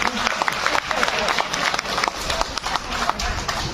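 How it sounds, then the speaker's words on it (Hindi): An audience at a kavi sammelan poetry recital claps in a dense, steady burst of applause that continues throughout, moderately loud and close, with crowd noise mixed in. "ताली बजाइए"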